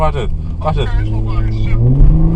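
A car engine revs hard during a reckless valet joyride in Harbor East, Baltimore, a loud close throaty roar climbing in pitch under excited shouting voices.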